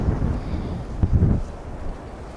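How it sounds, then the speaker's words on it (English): Wind blows snow along a street after a blizzard, a steady, rough rushing with buffeting on the microphone. A short gust swells near the middle and then eases. "Wind's still blowing the snow."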